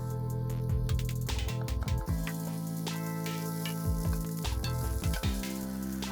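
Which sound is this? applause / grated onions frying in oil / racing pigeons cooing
grated onions frying in oil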